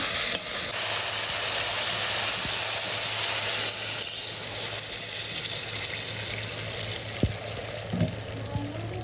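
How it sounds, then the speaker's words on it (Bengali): Chopped bottle gourd fries in a pan with a continuous close sizzle, broken by a few scraping stir strokes and small clinks near the end, with a faint low hum underneath and no clear talk. "তো আমি লাউটা কষিয়ে নেই ভালো করে"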